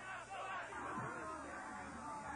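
Crowd outside an embassy chanting during a hostage standoff, a dense steady mass of voices with rhythmic shouting held at even loudness throughout.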